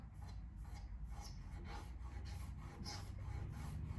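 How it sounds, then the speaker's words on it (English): Repeated rhythmic scratching of a fingernail across a freshly painted tabletop, close and quiet, a dry rasping stroke about every half second with no talking. "even if I scratch with my fingernail"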